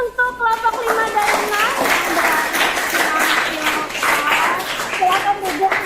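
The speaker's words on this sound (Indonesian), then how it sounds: "Sekarang tepuk tangan untuk kelompok 5 dan" A classroom of pupils applauds groups 5 and 6 after their math presentation, with continuous clapping mixed with children's voices and chatter throughout.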